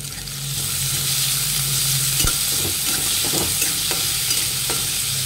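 Onions frying in a pan with curry leaves and salt, a steady close sizzle running throughout with occasional sharp scrapes and knocks of a stirring spoon against the pan.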